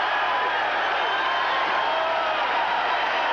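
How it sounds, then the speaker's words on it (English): Arena crowd at a 1981 heavyweight boxing bout, Larry Holmes vs Trevor Berbick, roaring steadily as round seven ends, a dense, loud, continuous wash of cheering voices with no breaks. "And the crowd comes to its feet."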